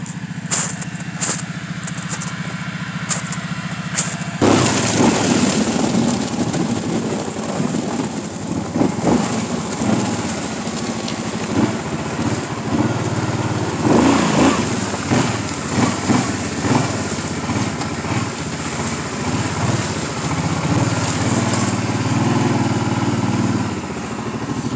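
A Kawasaki Brute Force ATV engine on a cold night ride, idling quietly at first, then revving up into a loud, rough, throbbing drone that rises and falls close by for the rest of the ride.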